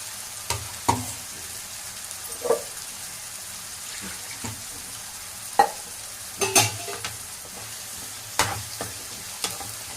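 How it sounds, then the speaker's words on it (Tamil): Ground masala paste for a fish curry fries with a low steady sizzle while a spoon scrapes and clatters against the pan in scattered strokes. "இப்போ இந்த அரைச்ச மசாலாவை போட்டுக்கலாம்."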